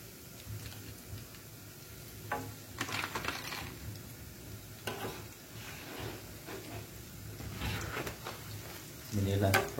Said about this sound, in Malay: Inilah proses menggoreng